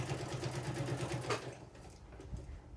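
A sewing machine stitches through the stacked layers of a mini journal cover at a 3.0 stitch length, a steady rapid whirring hum for about a second and a half before slowing and stopping, with faint handling noise afterward.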